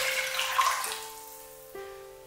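Water is poured into a measuring cup of pilaf broth for cooking rice, a brief close splashing pour that fades into a ringing, rising fill tone, with no talking.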